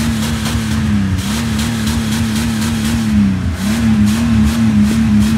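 A cheap old 4x4 engine idles and warms up close by, a steady rumbling drone with a slight wavering pitch and small revs, running alone without speech.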